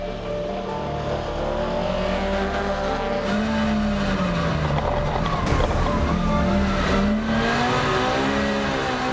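Touring race cars lap the Spa-Francorchamps circuit in the dark during a classic car event, a loud, continuous close engine drone whose pitch rises and falls as the cars accelerate and shift.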